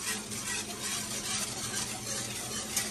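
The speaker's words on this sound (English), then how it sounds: "Add your milk in there. And just whisk away until it's thick." Milk whisked into a thickening sauce in a pan on the stove, a steady quiet scraping swish with a faint sizzle running beneath, continuous and close without a break.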